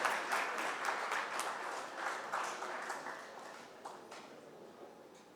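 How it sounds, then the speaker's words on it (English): A hall audience at a cyber security event applauds a speaker as she comes forward, the scattered clapping moderately loud at first and slowly fading away over a few seconds. "A big round of applause for Dr. Maiti."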